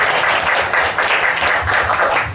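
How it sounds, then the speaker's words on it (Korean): Church congregation applauding in welcome during a Sunday service, a loud, steady stretch of many hands clapping with a slightly uneven pulse, lasting over two seconds. "박수로 좀 환영해 주시면 좋겠습니다."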